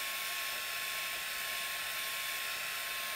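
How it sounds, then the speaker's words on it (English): A heat gun blows steadily with a constant hiss and whine, drying epoxy on a tumbler, close and unbroken throughout, with no talk. "Get my heat gun. All right, so let's take the heat gun."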